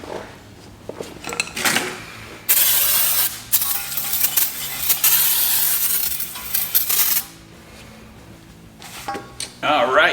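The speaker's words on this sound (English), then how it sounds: "let's give it one more brake clean bath" Brake cleaner sprays in long hissing bursts over a brake caliper on a 1993 Nissan NX2000, loud and close, broken by metallic clinks and handling noises between the bursts.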